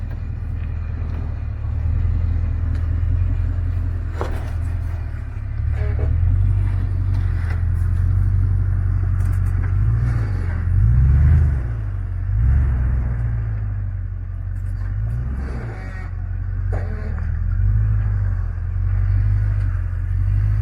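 A Lexus LX470 SUV crawls offroad over rocks at Little Moab, its engine rumbling low and steady throughout with a few swells in revs, close and continuous with no talk.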